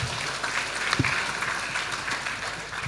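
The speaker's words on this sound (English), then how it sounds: "Give a round of applause for all of the speakers that we have." A conference audience gives a round of applause for the speakers, dense steady clapping at moderate volume lasting a few seconds, with a couple of low thumps along the way.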